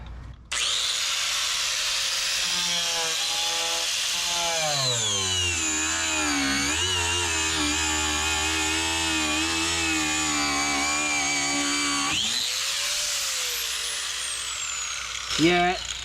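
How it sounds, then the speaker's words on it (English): An angle grinder cuts through plastic in a garage working on a turbo 3800 Camaro, a loud sustained whine that bends and wavers in pitch as the disc bites, then cuts off near the end. "thing about the angle grinder is that it also burns the plastic that it cuts"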